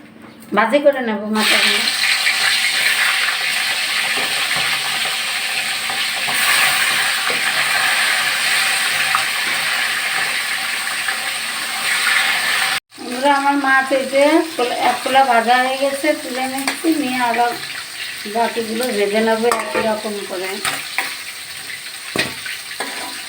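Salted, turmeric-rubbed rohu fish head pieces dropped into hot oil, a loud continuous sizzle that crackles and hisses throughout, with someone talking over the frying in the second half.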